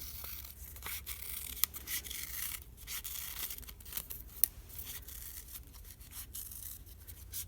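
Scissors cut through paper folded in thirds to make a journal stencil, giving quiet, close, repeated snips and rustling with a couple of sharper clicks.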